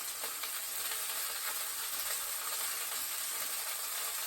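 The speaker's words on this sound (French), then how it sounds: "Donc les petits cèpes dans la poêle." Small porcini mushrooms sear in a hot frying pan, a steady, fairly quiet bright sizzle and hiss that runs continuously with faint crackles and no one speaking.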